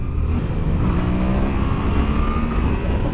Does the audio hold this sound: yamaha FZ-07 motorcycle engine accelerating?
yes